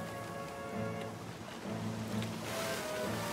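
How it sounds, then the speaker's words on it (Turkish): Big ocean waves roll in a Fireman Sam cartoon at sea, making a steady, loud wash of surf that swells and falls, with sustained musical tones over it. "Dalgalar kocaman olmaya başladı."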